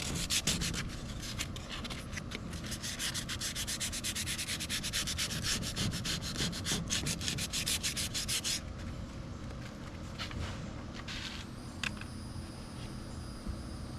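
A varnished wooden boat surface being hand-sanded with quick, rhythmic rasping strokes for about eight seconds, then fading to quiet scuffs.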